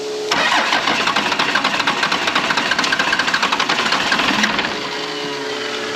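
A Dodge 2500 pickup with a 12-valve Cummins diesel, sitting unused for 15 years, fires and runs with a loud, close, rough clattering knock that holds steady for several seconds before easing off.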